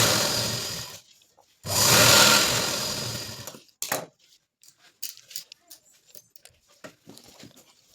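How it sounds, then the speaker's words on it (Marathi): A sewing machine runs a long number 5 stitch across katori blouse fabric in two close whirring bursts, the second longer, followed by scattered light clicks and handling taps. "हे बघा, आता 5 नंबरची टीप मारत आहे मी ह्याच्यावरती."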